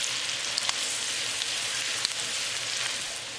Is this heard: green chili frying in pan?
yes